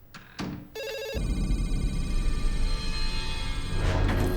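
A telephone rings loudly and insistently in a science-fiction film scene, a continuous electronic bell trill that rises after a brief start and carries on without talk.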